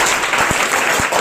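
An indoor audience claps together in a short, dense burst of applause that holds steady throughout, loud and close.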